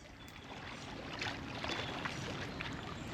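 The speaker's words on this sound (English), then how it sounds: "While I paddle, I imagine gliding overhead, ibis view, pelican view" Canoe paddled along a river, giving faint, steady water swishes and gentle splashes with soft wind in the background. The sound is quiet and continuous, with no talking.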